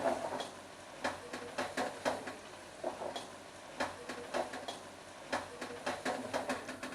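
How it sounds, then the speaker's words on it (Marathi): Onion frying in oil in a pan for mutton yakhni pulao, with a steady sizzle and repeated stirring scrapes and clicks of a spatula against the pan, close and moderately loud, no talk. "चला आता हा कांदासुद्धा आपण परतून घेऊया"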